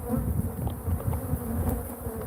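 A swarm of killer bees drones in a dense, continuous buzz that stays close and loud throughout, with no talking.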